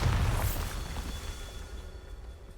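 A Bombarda spell's explosion effect goes off with a sharp, loud boom, then a long rumbling tail that fades slowly, with no talk.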